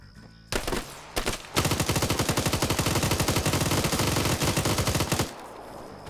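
Sustained automatic GPMG machine gun fire in a military combat game, loud and close, with an opening short burst, a couple of brief pauses, then a long unbroken rattling stream of rapid shots lasting several seconds before cutting off.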